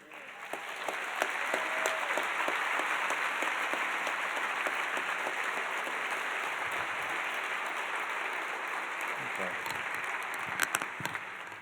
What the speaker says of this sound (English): Okay, so that's more applause than I got.